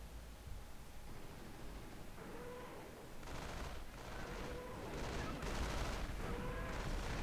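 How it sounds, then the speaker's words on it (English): Artillery support fire in Company of Heroes, a World War II strategy game, rolls in as a dense, noisy barrage of booming bursts that swell and repeat over steady battlefield rumble. "now I bring some artillery support into the mix"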